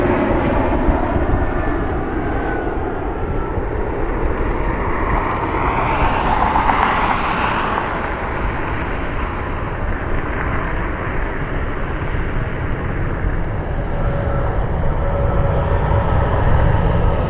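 Airliner jet inbound from LaGuardia to Cleveland Hopkins, a steady broadband engine roar that holds loud and close throughout with no talk.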